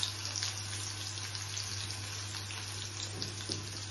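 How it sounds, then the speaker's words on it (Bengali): Chopped onion frying in hot oil with nigella seeds in a pan for a Bengali potol bhorta, a continuous, even sizzle over a low steady hum. "দিয়ে একটু পেঁয়াজ ফ্রাই করব"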